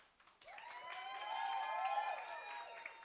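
An audience at a business workshop and expo in Mthatha applauds, with a sustained high-pitched cheer or whistle rising over the clapping, which swells after a quiet start and holds steady to the end.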